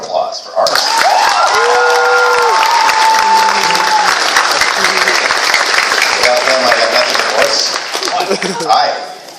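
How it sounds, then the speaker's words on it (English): An anime convention Q&A audience breaks into loud, sustained applause with some cheering, dense clapping filling the space for several seconds before tapering off near the end. "A great round of applause for artists"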